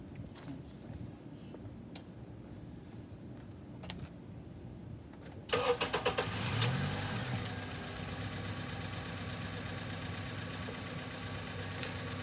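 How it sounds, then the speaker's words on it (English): A car engine cranks and catches partway through, then settles into a steady idle close by, with an automotive scope and micro clamp sensors hooked up to it. "I'll start the car"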